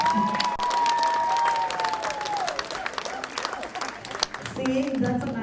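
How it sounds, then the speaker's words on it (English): A large audience at a women's summit morning session claps in a dense, continuous wash of applause throughout, with a voice talking and music playing over it. "Let's give them a big round of applause."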